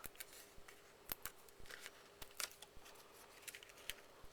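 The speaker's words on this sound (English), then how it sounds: "I like to cut mine in half" Scissors snip through a piece of paper card in a quiet room, a string of faint, crisp clicks and short cuts at an irregular rhythm, close and alone without talk.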